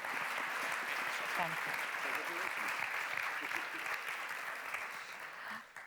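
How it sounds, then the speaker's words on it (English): Audience applause fills a closing session of a conference, steady and dense throughout before tapering near the end, with a brief spoken thanks over it. "a big round of applause"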